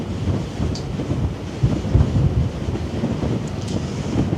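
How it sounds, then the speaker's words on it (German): Strong wind buffets the microphone on a cruise ship arriving at Ålesund, Norway, in a continuous, rumbling roar with gusty swells and no voices. "Ist echt windig heute."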